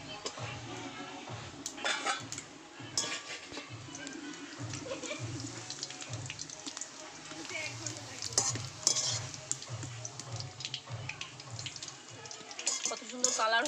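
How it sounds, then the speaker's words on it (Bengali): Sliced onions fry into birista in oil for mutton biryani, a close sizzle broken by rhythmic stirring and scraping clatters of a utensil against the pan. "হয়ে গেছে বেরেস্তা ভাজা, এবার তুলে নেব আমি"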